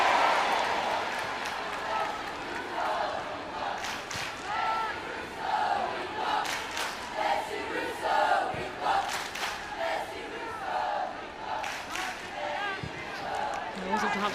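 Arsenal supporters cheer and shout at a Women's Super League match against Manchester United, greeting Alessia Russo; a loud, swelling crowd roar with bursts of yells and whistles rising and falling over several seconds.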